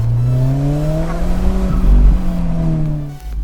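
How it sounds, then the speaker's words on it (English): A 2016 Alfa Romeo 4C Spider engine roars loudly as revs climb, then falls off sharply with a quick blow-off valve whoosh near the end, heard up close without talk. "the blow-off valve sounds like a horny wolf sometimes"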